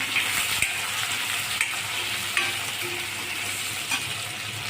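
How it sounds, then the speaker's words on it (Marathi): Onion sautéing in hot oil in a pan, a steady close sizzle punctuated by a few sharp spatula scrapes and taps against the metal. "त्यात कांदा घालत आहोत। कांदा पण छान परतून घेणे।"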